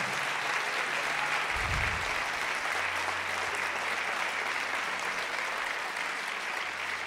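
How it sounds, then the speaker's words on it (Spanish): A church congregation applauding during a worship service, a steady, even wash of clapping that carries on unbroken, sounding somewhat distant and diffuse in a large room. "Dale fuerte ese aplauso al Señor."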